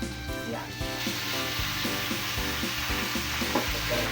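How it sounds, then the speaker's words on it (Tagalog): Chicken pieces hit a pan of frying onions for Filipino adobo, setting off a steady sizzle close by, with stirring and utensil scrapes punctuating the frying. "Ilalagay na natin itong kanyang chicken."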